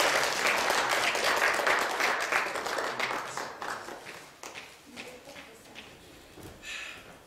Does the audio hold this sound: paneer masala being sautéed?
no